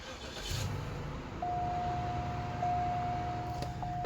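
Cadillac with a Northstar engine and about 345,000 km fires up and settles into a steady idle, a low rumble with a thin sustained whine and a few small clicks, and no talking.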